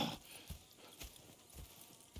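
Horses in a Red Dead Redemption 2 game scene make a quick series of hoof clops, with no clear neighing in this short stretch.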